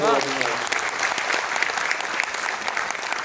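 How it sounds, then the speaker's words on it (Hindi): A crowd at an Urdu literature event breaks into applause for an honoured guest, dense rapid clapping sustained for a few seconds, with the tail of a speaker's voice at the very start. "इस आदमी के लिए तालियां बजाइए पहले"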